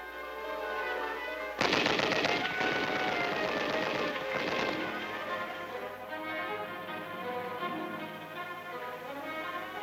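Machine gun and rifle fire during infantry weapons training in Taiwan: a sudden loud burst of rapid automatic fire that rattles for a few seconds, then trails into echoing reverberation and a steady background drone.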